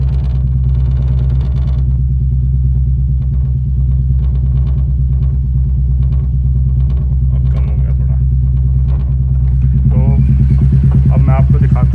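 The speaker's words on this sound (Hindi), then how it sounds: "सुनाता हूँ बाइक के एग्जॉस्ट की आवाज़ जो भी हमने लगाया हुआ है इसमें" A Royal Enfield Meteor 350 fitted with a stage 2 air filter cap idles with a deep, steady, close exhaust thump. The rumble stays constant throughout and picks up slightly near the end.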